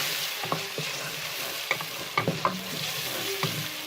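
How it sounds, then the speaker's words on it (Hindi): Spice masala and sliced large tomatoes sizzle in a pan for an arvi (taro root) curry. A soft steady hiss runs under repeated stirring scrapes and light clinks of the spoon, with no voices. "मसाले को हम थोड़ा सा भून लेंगे।"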